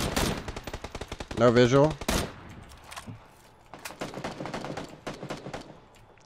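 PUBG gunfire with a heavy automatic burst up front, then a steady run of sharp shots continuing at a distance, while players talk over it.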